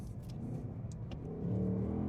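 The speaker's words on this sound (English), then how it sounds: "stick it back in the manual mode, downshift." The engine of a 2025 Ford Mustang GT revs up on a manual downshift, a low, fairly quiet rumble that swells near the end, heard from inside the car with no talk.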